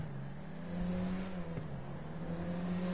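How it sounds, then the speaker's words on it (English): Phoenix car engine heard from the driver's seat in GTA 5, a steady humming drone that swells slightly as it accelerates, close and continuous with no talk over it. "This car sounds amazing in first person."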